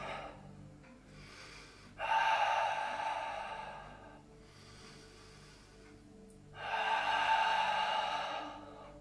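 Slow, deliberate breaths during a Pilates exercise, two long, loud exhales set apart by quieter inhales, close and steady with no talking.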